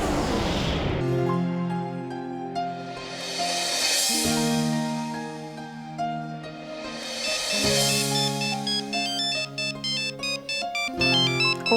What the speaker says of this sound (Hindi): विकी का फोन है।